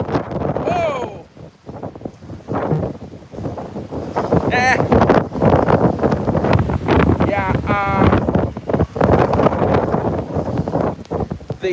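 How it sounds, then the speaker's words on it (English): Strong thunderstorm wind gusts at Rockaway Beach buffet and roar against the microphone, surging louder in the middle, while a person talks and exclaims over the blustery noise. "that was a very powerful gust"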